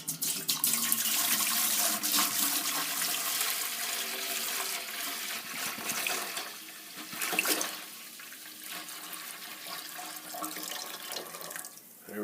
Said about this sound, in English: I'm just going to go ahead and pour this gallon of juice in.